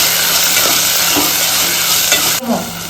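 Potatoes and tomatoes cooking in hot oil, a loud, close, continuous sizzle and hiss with stirring scrapes, briefly dipping near the end before resuming.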